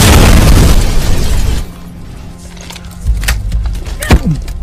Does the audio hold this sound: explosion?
yes